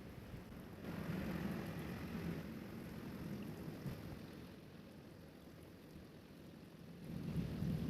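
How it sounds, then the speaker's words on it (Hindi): Thunder rolling through a night storm in a village, low rumbling swells that rise and fade under steady rain, fairly distant and continuous. "और देखिए कितनी ज़्यादा बिजलियां कड़क रही थी, आप आवाज़ सुनिए।"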